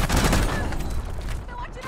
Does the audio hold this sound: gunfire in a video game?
yes